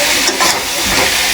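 Cauliflower hits a hot frying pan already holding potatoes, releasing a brief, loud, dense hiss of sizzling steam, close and without talk.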